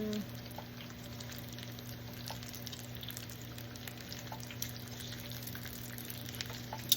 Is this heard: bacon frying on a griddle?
yes